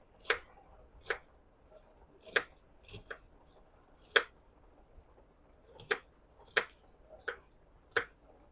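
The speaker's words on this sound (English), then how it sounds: "So I'm just going to cut that up real quick and throw that in." Knife chopping onions on a cutting board, about a dozen sharp separate taps at an uneven pace, close and fairly quiet, with no talking.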